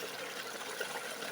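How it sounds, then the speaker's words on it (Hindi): Water from a pump driven by a variable frequency drive rushes steadily and loudly, a dense hiss and gurgle with slight irregular surges throughout. "यहाँ देख सकते हैं पानी झटका मार रहा है"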